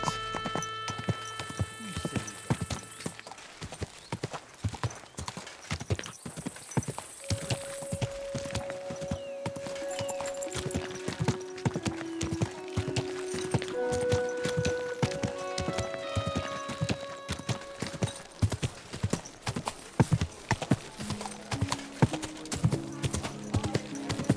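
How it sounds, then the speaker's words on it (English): Steady, rhythmic horse hooves clip-clop at a walking pace throughout in Kingdom Come: Deliverance 2, with a brief whinny and tonal background sounds layered over the hoofbeats. "Easy, good horse."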